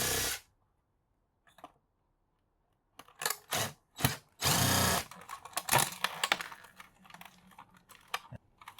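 Unscrewing the screws that hold the switch on a food processor being scrapped, heard as several short bursts of a buzzing driver and clicking, scraping handling noises at close range with pauses of silence between.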